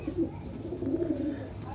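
Pigeons of a deep-eyed fancy breed give low, soft cooing close by, a murmuring throaty rumble that runs through the short stretch under faint background noise.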